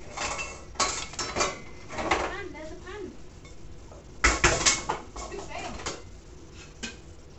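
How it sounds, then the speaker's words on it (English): Metal pans and cookware clatter and bang in a home kitchen, several sharp impacts and scrapes spread irregularly with one louder crash midway, close by, while people talk in the background. "My sister's dropping the pan."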